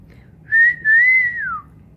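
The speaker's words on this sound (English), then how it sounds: "I couldn't whistle before because they felt too low. But I can whistle now." A person wearing new dentures whistles a short, clear tune, two sustained notes gliding gently up and down, close and loud with no talk.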